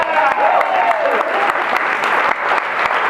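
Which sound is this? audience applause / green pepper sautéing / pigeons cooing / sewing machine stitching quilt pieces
audience applause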